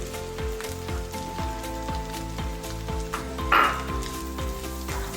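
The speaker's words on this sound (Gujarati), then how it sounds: "ડુંગળીને ધીમા તાપે સાતળવા દઈશું." Onion sautéing over low heat in ginger-chili paste for Surti-style cheese paneer gotado, giving a steady close sizzle. A spoon scrapes and stirs the pan in regular strokes, and one brief louder hiss rises partway through.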